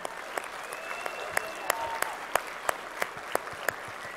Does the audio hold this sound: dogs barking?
no